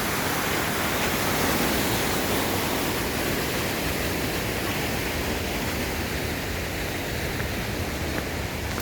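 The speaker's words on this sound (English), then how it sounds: "Waterfalls through there." A waterfall at Hayburn Wyke nature reserve gives a steady, dense rush of falling water, loud and unbroken throughout with no voices.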